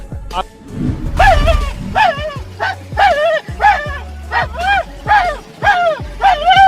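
A man on a road imitates a dog, giving a run of about nine loud, evenly spaced bow-wow barks close up, with a burst of background noise near the start.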